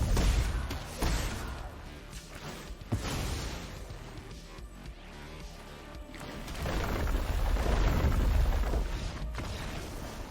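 Earthshaker effect in MTG Arena, a run of heavy rumbling booms and crashes in the card game, loud and sustained with swelling impacts throughout.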